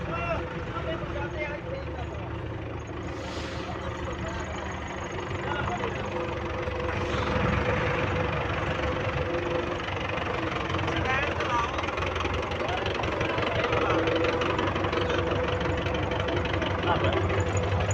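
A steady, rumbling engine idles throughout with a low, knocking chug, while people talk over it.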